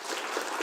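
Brief burst of audience applause at an academic university conference, a steady dense wash of many hands clapping without pause.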